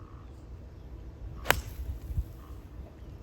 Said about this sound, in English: I'm going to play a 6-iron with a draw